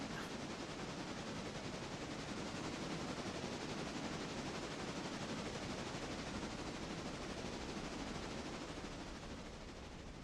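A steam locomotive in the railway game Railroader blows soot out while its fire is cleaned, making a steady, rapid rattling hiss that holds even and faint throughout.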